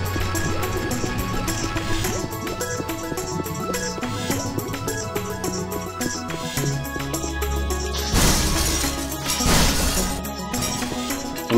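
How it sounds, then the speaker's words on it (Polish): Glass shatters in the video game Unreal with bursts of bright crashing and tinkling shards rising over busy game music and ambient effects. "Lubię dźwięk tłuczonego szkła."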